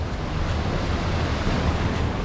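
A waterfall beside a stone bridge on the Great Glen Way near Inverness roars as a steady, loud, broadband rush of falling water, continuous and unbroken, with no voices.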